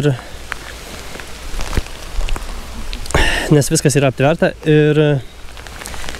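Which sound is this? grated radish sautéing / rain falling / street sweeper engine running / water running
rain falling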